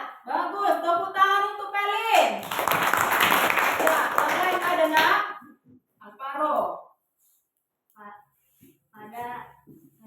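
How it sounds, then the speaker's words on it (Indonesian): Children in a classroom clap their hands together in a dense, loud burst lasting a few seconds, with a teacher's voice talking before it and brief speech after it fades. "Tepuk tangan untuk Pelin."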